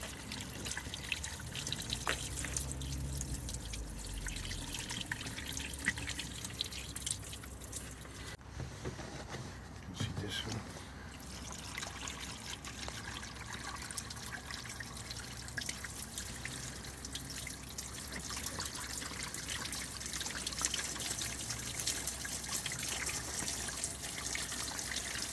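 Water trickles and drips through the scuttle drains of a Fiat Punto, a steady close running flow with scattered drips, continuous and without speech throughout.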